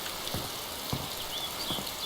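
Rain falling in the video game DayZ, a soft steady hiss at low volume with a few dull thuds spaced through it.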